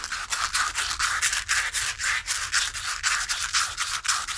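Sandpaper worked over a hardened cork repair on a fishing rod gives quick rhythmic scratchy strokes, about three per second, close and steady with no talk.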